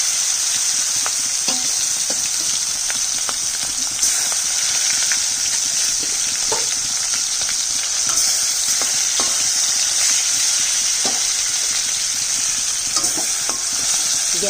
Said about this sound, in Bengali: একটা একটা করে মাছ দিয়ে দিচ্ছি।